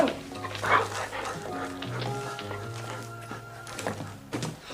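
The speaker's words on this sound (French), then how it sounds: "Oh, oui, t'es un bon chien." A dog in a 1992 Lucky Luke cartoon barks and yips briefly over a steady bed of animated-series music, with a voice faintly present.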